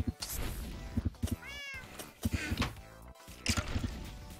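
Minecraft cat meowing in a short rising-falling mew, heard between bursts of game sounds and clicks, with a voice speaking German over parts of it.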